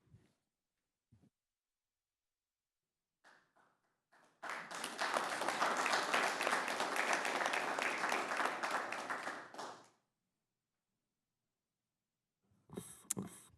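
An audience claps in appreciation at a school district board of trustees meeting, a dense round of applause lasting about five seconds after a few scattered taps, fading out before more faint sound near the end.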